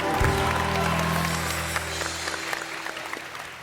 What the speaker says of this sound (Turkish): Mahsun Kırmızıgül'e bir alkış